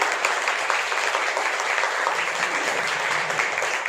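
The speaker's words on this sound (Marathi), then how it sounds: "मुलींनी टाळ्या वाजवायचं फक्त मुलींनीच" Girls in an audience at an academy anniversary event clapping together, dense sustained applause that holds steady and loud throughout.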